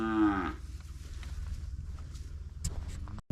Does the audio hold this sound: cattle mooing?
yes